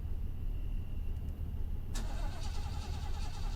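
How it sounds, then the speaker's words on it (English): In the video game Fears To Fathom, a car's ignition is tried and the engine fails to catch: a low, continuous rumble, then a sudden mechanical cranking burst partway through, followed by a rattling whir. "The car wouldn't start back up."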